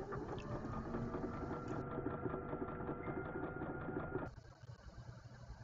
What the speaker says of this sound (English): Let's do one more stitch so that we can get 1/4 inch.